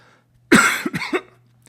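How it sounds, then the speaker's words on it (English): A single sharp human cough bursts out during a quiet indoor voice recording, followed by a couple of shorter throat-clearing hacks, close and loud over a low steady electrical hum. "you could hear that there was a cough in there where while I was talking, I had to cough"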